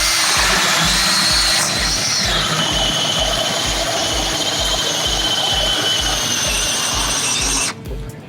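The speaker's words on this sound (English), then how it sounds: "this is our new 36 volt right angle drill" A 36-volt right-angle power drill with a 2 9/16-inch bit whines steadily and loudly, boring continuously through material with a rhythmic low chugging, then suddenly cuts off near the end.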